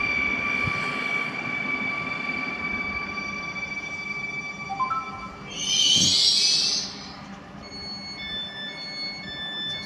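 A passing train rumbles steadily with a rising mechanical whine. Midway it swells into a brief, loud high-pitched screech or whistle, then settles back to a steady run.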